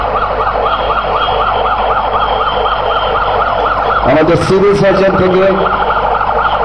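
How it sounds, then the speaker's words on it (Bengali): An ambulance arriving at a fire rescue scene in Sylhet sounds its wailing siren loud and close in a steady rising and falling cycle, then it breaks off into a burst of blaring horn with someone talking over it. "সার্জনের দপ্তর থেকেও একটি অ্যাম্বুলেন্স এসে পৌঁছে গেছে"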